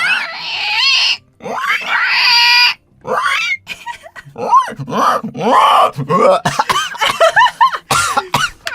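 A person's voice imitates a pig squeal, with a run of loud, close, high-pitched squeals, grunts and oinking noises broken by short pauses and coughing sounds.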